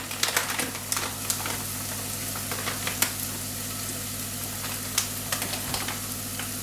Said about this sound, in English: Just give that a stir in so the onion absorbs that flavour, and spices can fry off.